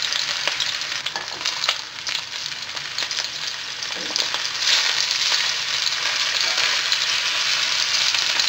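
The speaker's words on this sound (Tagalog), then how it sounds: "Kailangan nating ma-pan fry lahat ng size ng filet mignon" Pepper-crusted filet mignon sizzles steadily in a hot pan, a dense, continuous frying hiss with faint crackles, close and loud throughout with no talk.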